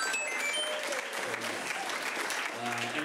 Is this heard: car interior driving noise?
no